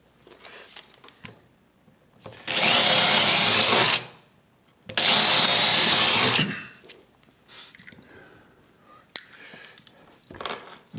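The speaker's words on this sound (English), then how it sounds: "First get the rubber out of the way, otherwise it tends to tear with the drill." A power drill runs in two long, loud bursts of a few seconds each as it bores holes through rubber in a basement, with quieter handling clatter and scraping between and after the bursts.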